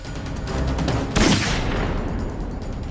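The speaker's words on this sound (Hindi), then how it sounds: "भागते वक्त अभिजीत मुझे रोकने के लिए गोली चलाएगा।" Gunfire erupts in a tense scene of a TV courtroom crime drama, a loud burst of rapid shots with a sharp blast near the middle, then fading noise.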